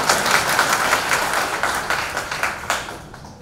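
An audience claps at a family gathering of an artists' association, KAF, producing a dense, steady round of applause with small rhythmic surges that tapers off near the end.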